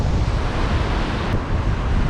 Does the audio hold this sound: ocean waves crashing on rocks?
yes